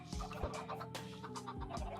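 Soft, faint clucking of chickens in the video game Minecraft, several short murmuring calls overlapping at low volume with a steady background tone.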